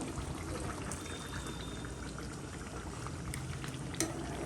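A pan of tomato puree bubbles and sizzles steadily at low volume, a continuous soft simmer with a small clink near the end.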